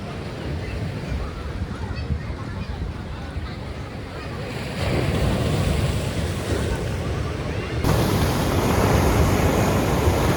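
Continuous roar of sea surf washing in on the Puducherry seafront, with gusty wind buffeting the microphone; the wash swells louder partway through.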